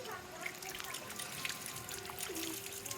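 Water is poured over a child's head during a bath, a steady close trickle and splash running the whole time, with faint voices in the background.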